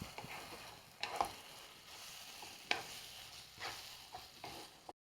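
Beetroot and dates pickle being stirred in a pan, with a soft sizzle underneath and a few sharp scrapes of the spoon at irregular moments, fairly quiet and close, with no talking.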